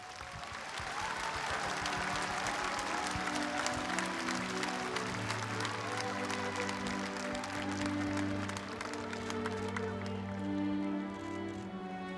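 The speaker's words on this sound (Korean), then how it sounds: "박수로 맞아주시기 바랍니다" Sustained crowd applause at a memorial ceremony marking ten years since a former South Korean president's death, as the bereaved family's representative is welcomed. The clapping stays steady and fairly faint over soft, held music.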